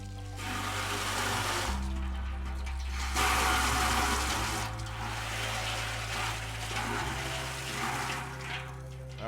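Water rinses and splashes through a drum during cleaning, a steady broadband wash with a low motor-like hum shifting pitch underneath, loud and close throughout without talk.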